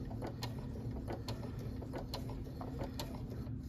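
An embroidery machine stitches a Kimberbell keychain design, a faint, steady mechanical hum with quick, regular needle ticks repeating throughout, close by with no talking.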